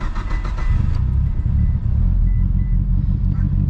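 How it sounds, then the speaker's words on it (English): A Mitsubishi Lancer Evolution being moved gives off a deep, steady engine rumble, close up and loud throughout, with no voices. "Gotta move the Evo because we're gonna go to the racetrack today."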